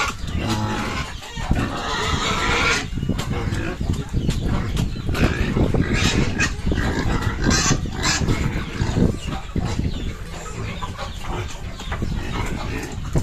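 Pigs and piglets on a farm grunt and squeal almost continuously at moderate loudness, with chickens and other farm animals mixed into the busy background.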